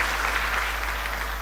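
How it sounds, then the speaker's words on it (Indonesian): A church congregation applauds during a sermon, producing a continuous wash of clapping that stays level and fairly loud from start to finish, over a low steady hum. "Berikan tepuk tangan."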